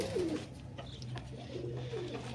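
A pet pigeon released from the hand, with a couple of soft coos over a steady low hum and faint wing flutter as it takes off.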